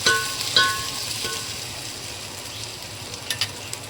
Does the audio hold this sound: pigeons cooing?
no